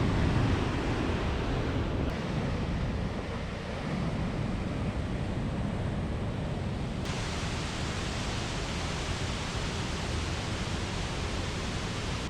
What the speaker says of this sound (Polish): jesteśmy przy samym wodospadzie, 21 metrów w dół